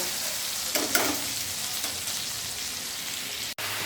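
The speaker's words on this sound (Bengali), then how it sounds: "মশলাটাকে ভালো করে কষিয়ে নেব" Ground cumin, coriander and chili paste frying in a pan for a khaira fish mustard curry, a continuous close sizzle with a few sharp spatula scrapes and a brief knock near the end.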